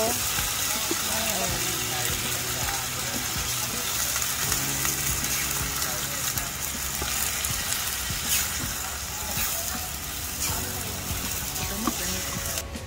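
About two kilos of squid sizzle in a pan with sautéed tomatoes, giving a steady, close frying hiss throughout, with occasional stirring and clinks on top.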